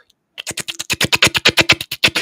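A voice imitates the sound of killer plants from a 1950s film with a rapid, rhythmic series of clicking, chattering pulses lasting about two seconds after a brief silence.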